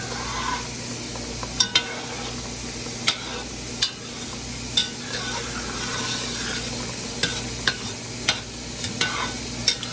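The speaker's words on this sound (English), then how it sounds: "when I finish stirring this, I taste it" Homemade apple butter simmers in a pot on the stove while a spoon stirs it, giving regular sharp scrapes and taps against the pot over a constant soft bubbling sizzle, close by.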